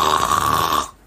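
A voice imitates loud snoring, one long rasping, nasal snore that drones steadily and then cuts off abruptly into silence.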